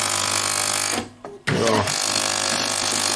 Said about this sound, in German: Man hört, dass die Pumpe irgendwie nicht ganz sauber Wasser zieht hier